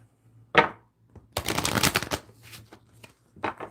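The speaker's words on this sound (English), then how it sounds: "so let me shuffle these cards up" Tarot cards are shuffled up close: a sharp snap, then a dense riffling flutter lasting under a second, followed by a few short softer riffles and taps, with no talking.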